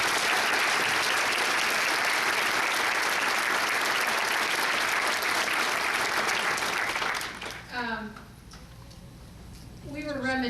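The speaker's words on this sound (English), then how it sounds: "I'd like to give them a round of applause." A full round of applause from the audience for the court clerks of the 4th District Court of Appeal at an admission and oath ceremony. It is loud and sustained for about seven seconds, then tapers off into quieter room noise.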